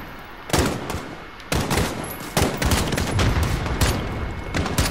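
Gunfire in Call of Duty: Modern Warfare, during a campaign invasion mission: several loud, close bursts of shots and rapid automatic fire come in clusters, one after another, with no talk over them.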